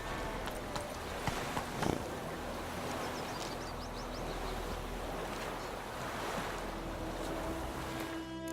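A horse gallops in the Witcher 3 video game, steady muffled hoofbeats drumming under a wash of wind and surf-like ambience, moderately quiet throughout.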